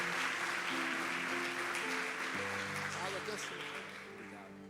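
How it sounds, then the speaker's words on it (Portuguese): A church congregation claps steadily through a celebration service, broad sustained applause that fades gradually, with sung or spoken voices layered over it. "Mais forte esse aplauso para esse homem de Deus."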